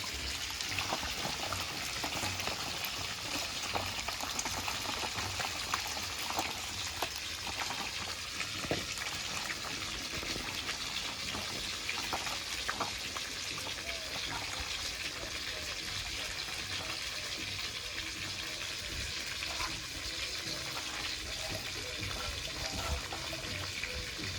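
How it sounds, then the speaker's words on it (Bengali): Potatoes and bitter gourd rinsed under a running tap, a continuous close splash and gush of water lasting the whole time, with faint handling noises. "আলু আর উচ্ছেটা ভালো করে ধুয়ে নেব।"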